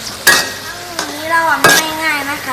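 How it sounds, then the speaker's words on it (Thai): Oil sizzles and crackles steadily in a pan as banana chips fry, with a few louder bursts of clattering as they are stirred, and faint tonal squeaks underneath. "เราก็จะลงกระทะทอดให้กรอบครั้งหนึ่ง"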